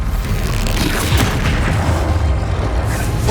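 The Bombarda explosive spell in Hogwarts Legacy lands as a loud, sustained booming blast, a thick rumbling roar that fills the whole moment without pause and with no voices over it.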